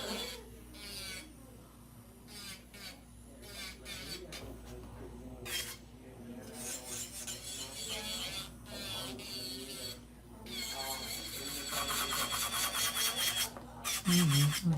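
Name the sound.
buffing nails with a 100/180 grit buffing block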